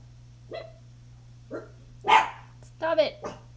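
Dogs indoors give a handful of scattered barks, some short and sharp and a couple in quick succession, growing louder toward the end over a low steady hum.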